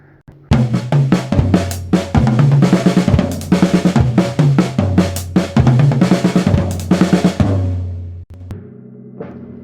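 A drum kit plays fast doubles around the toms, snare and hi-hat, a dense, loud run of rapid paired strokes moving across the drums for several seconds before easing into a couple of final hits.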